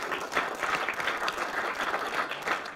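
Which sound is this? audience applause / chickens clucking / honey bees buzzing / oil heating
audience applause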